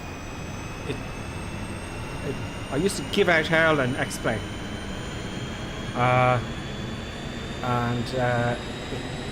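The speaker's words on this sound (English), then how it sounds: "There's the APU starting." An Airbus auxiliary power unit spins up in Microsoft Flight Simulator, a steady mechanical whine and hum running throughout beneath someone talking.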